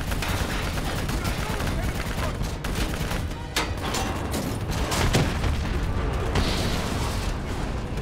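Steady automatic gunfire pours at a VTOL aircraft in a Call of Duty: Black Ops 3 battle, dense overlapping shots and cracks with heavier booms, moderately loud throughout, with voices speaking amid the shooting.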